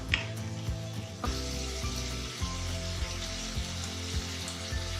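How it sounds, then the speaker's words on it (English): Tomato puree, salt and black pepper being mixed in a pan, a steady frying sizzle with a low hum underneath and occasional soft scraping bumps, close and moderately loud. "Tomato puree. Mix all of this together."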